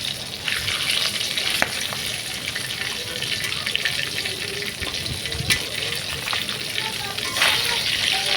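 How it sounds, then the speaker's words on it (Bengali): Pieces of rohu fish fry in oil in a pan, a dense, continuous crackling sizzle with occasional sharper pops, close and steady for several seconds. "মাছগুলোকে আমি উল্টাই দিব।"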